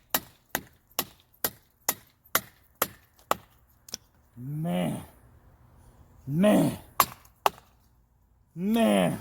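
Nine or so sharp, evenly spaced wooden knocks ring out close by as a Bowie knife is batoned through a wood log, then someone talks, with a couple more knocks between his words.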